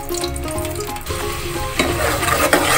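Butter melting with a spoonful of oil in a pan for white sauce pasta, giving a steady close sizzle and frying crackle throughout that grows slightly louder toward the end, with no one speaking.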